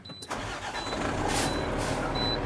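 Heavy truck diesel engine cranks and catches after a brief quiet start, then settles into a steady, loud rumble with hiss, during a Class B CDL safe start at a public works yard.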